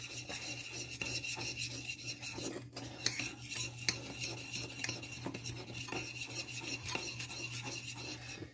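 Cherry Kool-Aid and coffee being stirred together in a container, a steady scraping, rasping stir with occasional light clinks of utensil against the vessel, continuous and close with no talking.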